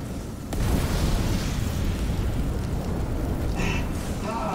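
Explosion in the video game Dead Space: a low, rumbling blast rises and holds as a dense, sustained roar for several seconds, loud and broad, with brief higher tonal game effects near the end.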